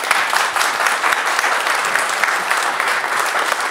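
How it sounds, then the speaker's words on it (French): Dense, steady applause from a TV show studio audience, sustained clapping at an even level for a few seconds. "On peut les applaudir."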